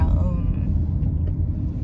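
Steady low rumble of a car driving, heard from inside the cabin on the way to work, with a person talking over the engine and road noise.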